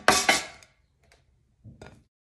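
Halved bell peppers in several colours dropped into an air fryer basket, two quick close clatters followed after a pause by a softer pair of knocks, with no talking.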